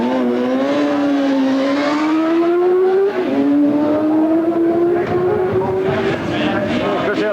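A racing motorcycle engine at the 1994 Isle of Man TT holds a loud, steady roar whose pitch climbs gradually as it gets ready to pull away, with a brief dip midway and rough background noise throughout.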